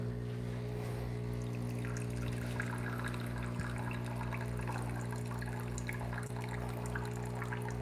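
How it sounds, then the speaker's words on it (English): Hot water trickles steadily into espresso to make an Americano at a home setup with a Breville Barista Express. The soft, continuous pouring sits under a loud, steady machine hum, and no one speaks. "I'm gonna add some hot water."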